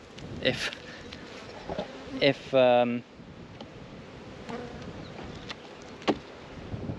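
Honey bees buzz around an opened beehive during a frame inspection, a steady diffuse hum under brief bursts of handling noise and a short louder buzz close by.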